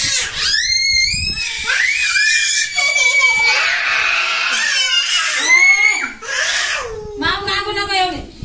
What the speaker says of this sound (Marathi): हे पोरांनी कोंबड्या पाहिल्यावर इतक्या ओरडतायत ते बघा